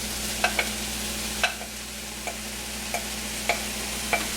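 Wooden spoon scraping and knocking ingredients into a sizzling pan, several sharp taps over a steady frying hiss.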